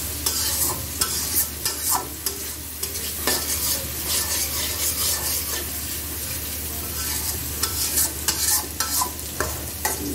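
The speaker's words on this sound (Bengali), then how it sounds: "ভালো করে আমরা নেড়ে চেড়ে ভেজে নিলাম।" Masala spice paste fries in oil for a hilsa curry with raw banana and potato, a continuous sizzle broken by repeated scraping and stirring strokes of a spatula in the pan, close and fairly loud.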